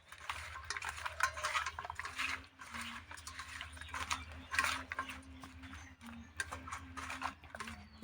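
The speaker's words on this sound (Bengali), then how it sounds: "এবার যে হচ্ছে টমেটো আমের শরীর যেগুলো নিয়েছি ওগুলো নিয়ে নেব নিয়ে এবার ভালো করে মেখে নেব" Wet, irregular squelching and light clinks of tilapia fish pieces being hand-mixed with tomato for a sour fish curry, close and quiet, with a faint steady hum underneath and no talking.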